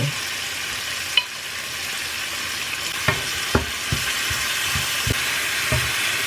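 Chopped chili and wild garlic stir-frying in a pan with shrimp and oyster sauce, a constant loud sizzle broken by a few sharp scrapes and clicks of the spatula.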